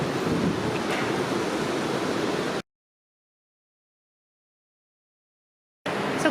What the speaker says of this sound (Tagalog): Grabe ang daloy sa tubig.